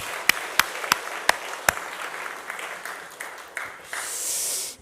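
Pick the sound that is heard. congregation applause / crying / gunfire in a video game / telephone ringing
congregation applause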